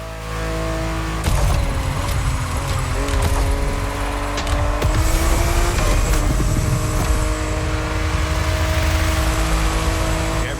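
A powerful car engine revs hard in the racing game The Crew Motorfest, a loud, continuous roar with rising and falling pitch as it accelerates and shifts, with sharp bursts near the start.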